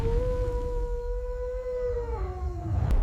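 A single wolf howl, one long sustained tonal cry that bends downward near its end over a rumbling background, fairly close and clear.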